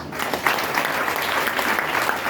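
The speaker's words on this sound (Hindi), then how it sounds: "एक बार इनके लिए ताली बजाओ।" A seminar audience claps for standing attendees, a continuous even patter of many hands at moderate volume filling the whole stretch.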